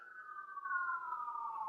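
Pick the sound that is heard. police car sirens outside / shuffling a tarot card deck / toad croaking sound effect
police car sirens outside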